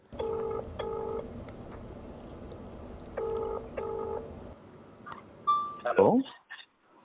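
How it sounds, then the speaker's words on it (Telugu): A mobile phone dials a number: two short bursts of paired keypad tones, a pause, then two more, followed by brief electronic beeps and a short voice-like sound near the end. "ఇంకో ఫోన్తో ట్రై చేద్దాం"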